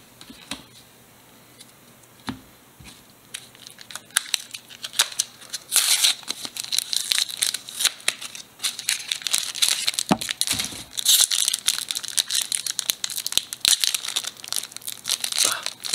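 Pokemon card pack foil wrapper crinkling and tearing up close in repeated bursts, a stubborn pack resisting being ripped open, with sharper crackling rips growing louder toward the end.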